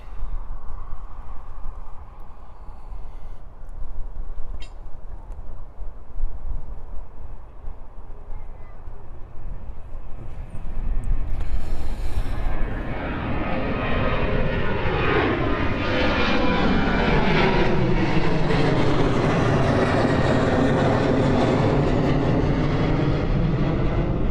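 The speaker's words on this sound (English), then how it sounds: "Let's have a look on the 777 from China Airlines cargo." China Airlines cargo Boeing 777 at Miami International Airport: a distant jet engine rumble swells into a loud, close roar with a sweeping whine as the plane passes, holding strong to the end, with no talking.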